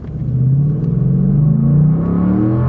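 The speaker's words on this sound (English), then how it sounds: "You can hear that engine" Car engine accelerating hard, a loud, close rumbling drone that climbs steadily in pitch over a few seconds without pause, with no talking.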